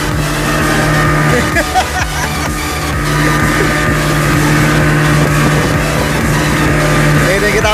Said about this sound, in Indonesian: anginnya cukup kencang sekali